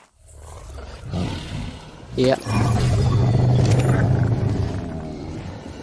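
A creature in the game ARK Survival Evolved lets out a loud, deep, sustained roar lasting several seconds, following a short spoken word from a person.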